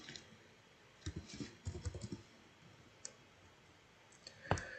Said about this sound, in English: So you can see I type orange and purple.